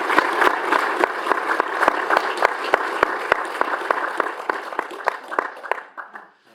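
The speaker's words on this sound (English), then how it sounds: "I just want to give a round of applause for all the committees for their hard work." An audience gives a round of applause at a speaker event. Sharp, distinct claps carry through a dense wash of clapping, which thins out and fades at the end.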